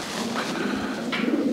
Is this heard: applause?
no